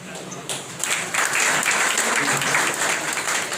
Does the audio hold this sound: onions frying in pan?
no